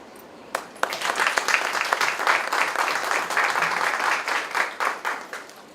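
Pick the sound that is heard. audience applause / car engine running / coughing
audience applause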